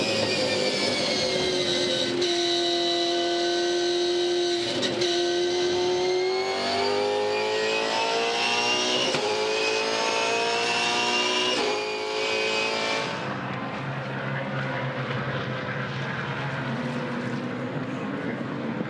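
Holden Commodore V8 Supercars race at Phillip Island, loud engines holding a steady high roar with rising and shifting pitch as cars pass close by, then a drop to a lower, more distant drone near the end.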